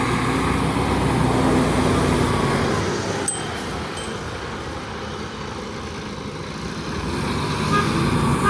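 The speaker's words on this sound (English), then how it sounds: "Just waiting for this truck to go by." Truck driving past on a road near Geneva airport in Vernier, a loud, low engine rumble close by that eases slightly mid-way and then swells again, with traffic noise underneath.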